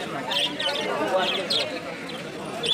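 Several birds chirp and tweet in short bursts amid a busy poultry market din in Sirajdikhan, Munshiganj, with people talking throughout the background.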